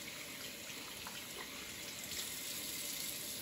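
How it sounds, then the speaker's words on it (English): Tap water runs steadily as hands are rinsed at a sink, a continuous soft splashing hiss that stays even and alone throughout. "the fifth and final important step is to rinse and dry"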